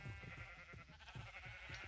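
Sheep in the Minecraft video game give a few soft, nasal bleats in quick succession, faint and alone with no talking.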